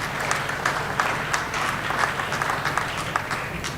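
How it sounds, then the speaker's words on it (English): A crowd at a high school athletic signing day applauds faculty and staff, with even, moderately loud clapping that carries on steadily throughout and a few sharper individual claps standing out. "Let's give a round of applause and recognize our faculty and staff that are here."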